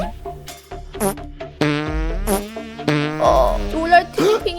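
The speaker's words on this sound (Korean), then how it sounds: "더 세게 방귀를 껴야겠다" Cartoon fart sound effects in a children's animated story, a string of several buzzy, squeaky blasts of varying length, loud and close, mixed in among character voices and music.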